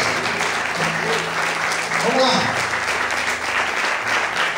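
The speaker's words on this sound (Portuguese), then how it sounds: "Desocupe a sua mão, aplaude o Senhor, dizendo glória a Deus e aleluia." A congregation in a Portuguese-language church service claps steadily while a voice speaks briefly over the applause and some vocal exclamations rise in the middle.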